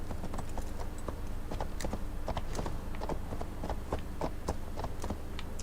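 Steady galloping hoofbeats of a horse in a video game, Assassin's Creed Valhalla, in a quick repeating rhythm, close and continuous over a constant low rumble.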